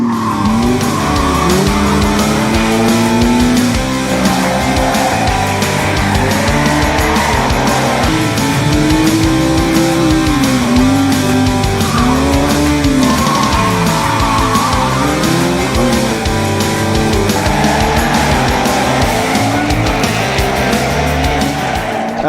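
Cars warm up on a drift pad with continuous loud engine revving and long, wavering tire squeals that rise and fall throughout, steady and close with no pauses.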